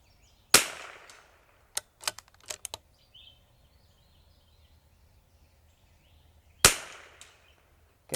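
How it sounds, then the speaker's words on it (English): A CZ 457 .22LR rifle fires a cold bore shot outdoors, a sharp close crack that fades quickly. A second identical report follows about six seconds later, with a few small clicks and knocks between the two shots. "We're just going to shoot our cold bore on this guy"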